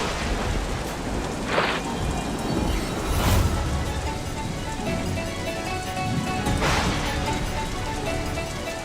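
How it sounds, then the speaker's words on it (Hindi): Heavy rain pours in a steady hiss with distant thunder rumbling through it a few times, no voices heard. "ये वर्षा कोई सामान्य वर्षा नहीं, अवश्य कोई अनिष्ट होने जा रहा है।"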